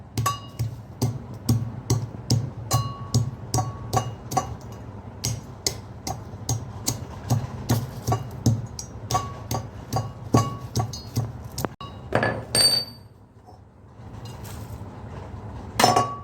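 Nutmeg is pounded for homemade tea masala spice mix, with a steady run of sharp, close knocks in quick rhythm. The knocks break off briefly near the end and then resume.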